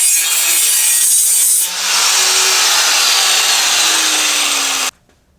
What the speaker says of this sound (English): Now what I'm going to do is take the aluminum pieces. I'm going to cut these tabs off too.